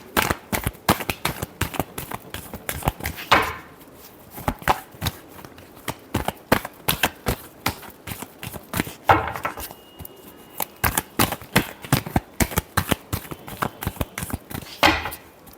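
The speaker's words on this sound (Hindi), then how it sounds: "Last shuffle." Deck of tarot cards being shuffled by hand, a long series of crisp rapid riffles and taps with brief pauses between bursts, close and clear with no talking.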